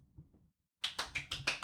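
A small studio audience claps at a talk show after some faint murmuring. A short burst of rhythmic, close hand claps follows a brief silence.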